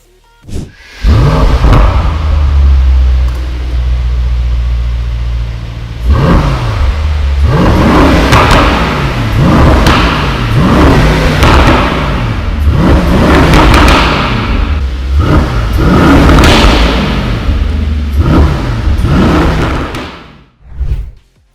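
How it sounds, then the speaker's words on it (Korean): A Mercedes-AMG GT63 sedan with a Brabus tuned exhaust roars through a series of sharp, loud revs every couple of seconds, close by, with no one talking. "소리가 정말 세단이라고는 믿기지 않을 만큼 괴물 같은 소리가 나네요"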